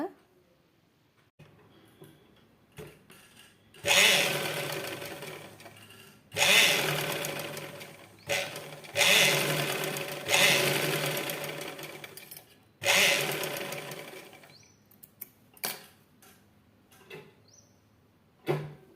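An electric sewing machine run by a motor pedal stitches rough cloth in several bursts of fast whirring, each a few seconds long with short pauses between, close and clear, ending with a few light clicks.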